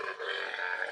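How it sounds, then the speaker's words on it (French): A camel gives a single harsh, roaring groan, loud and close, lasting about a second with no talk over it. "C'était un chameau!"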